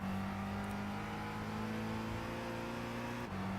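Car engine on a warm-up lap holding a steady droning hum, fairly faint, with a brief dip near the end and no talking.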